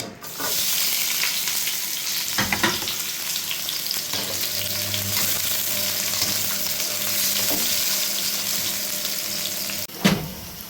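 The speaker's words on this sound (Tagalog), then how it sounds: "Gigisahin na natin ang ating sibuyas, bawang luya." Onion, garlic and ginger sizzle steadily in a hot pan, a constant frying hiss broken by a few brief scraping stirs, close and fairly loud with no talking.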